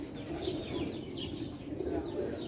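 Pigeon cooing, soft low repeated coos over a steady background hum, faint and somewhat distant, with no talking.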